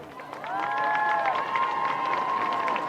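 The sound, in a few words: crowd applause at high school football game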